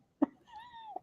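A single short meow, sounding like a robot cat toy, preceded by a brief click, heard close and alone.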